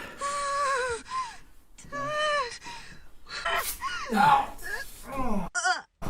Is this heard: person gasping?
yes